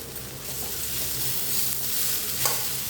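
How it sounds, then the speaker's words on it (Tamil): Cauliflower pepper fry stirred in a hot pan, a steady sizzle with soft scraping and stirring noises running throughout, close and fairly loud with no talking. "நல்லா இந்த மாதிரி பெரட்டி விட்டு"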